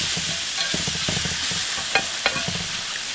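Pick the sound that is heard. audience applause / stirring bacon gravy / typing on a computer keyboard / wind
stirring bacon gravy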